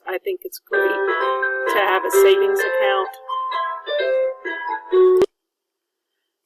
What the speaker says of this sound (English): Sorry, that was the doorbell.